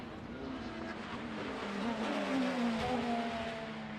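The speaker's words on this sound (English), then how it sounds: "John Cleland leaving the hairpin and powering up the straight here at Knockhill" Classic Super Touring car accelerating out of the hairpin at Knockhill and up the straight, a distant engine note climbing steadily in pitch as it pulls away, fairly faint, heard alone.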